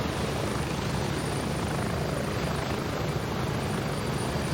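A helicopter in the Gray Zone Warfare game gives off a continuous, loud, rushing rotor and engine roar that stays steady throughout, with no voices.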